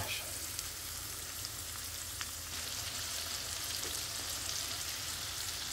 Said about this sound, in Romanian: Le prăjim și pe ele puțin să-și lase sucul.